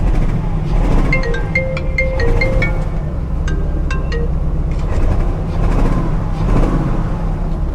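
A salvage car's engine running rough just after the clutch is let out, a loud, steady, uneven low rumble with scattered metallic clinks over it.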